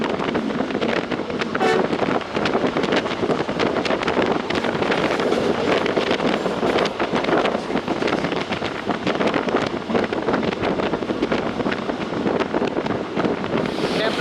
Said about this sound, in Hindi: अभी तक ठंडी ठंडी हवा चल रही है।